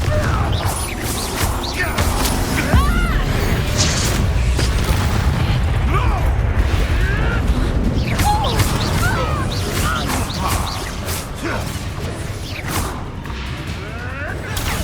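Spells are cast in the video game Hogwarts Legacy, including the explosive Confringo: repeated booming blasts, whooshes and crashing impacts over a busy battle soundscape, with voices calling out throughout.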